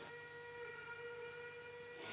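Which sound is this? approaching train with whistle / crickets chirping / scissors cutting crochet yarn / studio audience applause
approaching train with whistle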